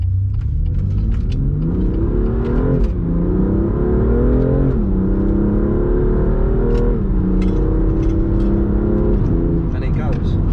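A BMW M2 Competition F87 with a DCT gearbox accelerates hard, its engine rising in pitch through several quick upshifts, heard loud and close from inside the car.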